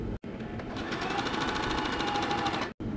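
A sewing machine stitches a 1.5-inch hem on a pair of shorts, running as one loud, steady whir for most of the stretch, with short pauses at the start and near the end.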